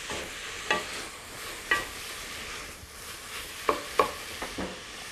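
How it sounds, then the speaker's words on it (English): Sliced carrots sautéing gently in a pan for carrot and ginger soup, a soft steady sizzle with a few sharp utensil stirs and scrapes at intervals, moderately close, no voices. "the juice starts to release from the carrots when you're sautéing them down, then they start to sweat down"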